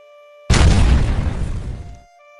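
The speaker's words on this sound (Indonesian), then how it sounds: "Terlihat wajah Gu Qingfeng gosong karena ledakan tadi" Explosion sound effect in an animated story recap: a sudden loud boom bursts in after a quiet start, then a rumbling roar slowly fades over about a second and a half before cutting back to quiet.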